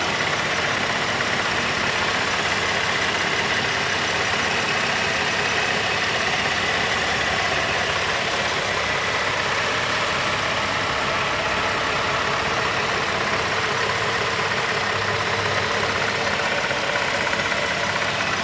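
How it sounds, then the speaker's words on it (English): A 2015 Chevy Impala PPV with the 3.6 liter engine idles steadily for the whole stretch, a smooth, even hum heard close and alone without any talking. "Let me go ahead and go quiet here for a quick second so you can hear the engine"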